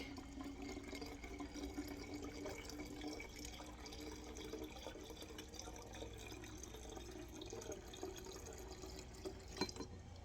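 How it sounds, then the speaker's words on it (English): Liquid pours into a jug in a home kitchen, a faint, continuous trickling and splashing that stays quiet and steady, with a small clunk near the end. "And now we're going to pour that in my jug."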